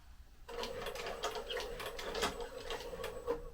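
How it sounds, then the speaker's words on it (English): A sewing machine runs in reverse, stitching backwards along a fabric edge, with a steady close mechanical whir and rapid rhythmic ticking that carry on without pause, and no one speaks. "So I've got my sewing machine in reverse, a couple of threads going backwards."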